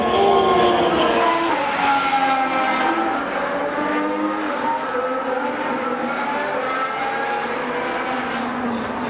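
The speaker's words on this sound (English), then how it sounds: "I think the cars are starting to make their way onto the grid now." Formula 1 cars driving onto the grid before a sprint race, high engine notes rising and falling as several cars pass in sequence, loud and fairly close, fading slightly later.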